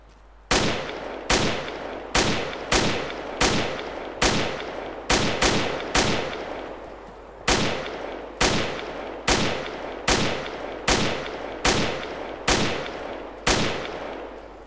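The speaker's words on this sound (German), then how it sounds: "Schüsse auf Heli." Shots are fired at a helicopter: loud, sharp gunshots crack in a steady, evenly spaced rhythm, about two per second, with a short pause partway through, each blast decaying quickly, and no talking.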